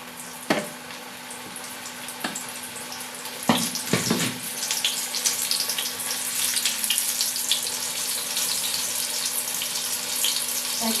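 Coated chicken pieces go one by one into hot oil for chicken popcorn, each drop bringing a sharp crackle before a steady bubbling sizzle builds and fills the rest.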